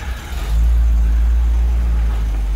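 A 1964 Cadillac convertible on 20-year-old tires pulls away for a drive around the block, its deep engine rumble swelling and holding loud and close with no talking.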